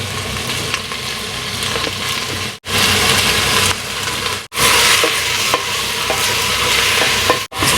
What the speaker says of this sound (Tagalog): Pero ako kasi gusto ko ginigisa ko yung beef.